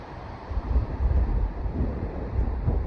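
Wind gusts steadily outdoors in a park on a hike, a loud continuous rumbling buffet that swells and eases throughout with no speech.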